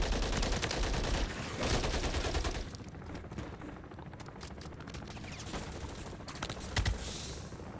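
Dense gunfire from a shooter video game rattles in rapid overlapping bursts, loud at first and then thinning into scattered shots and distant fire.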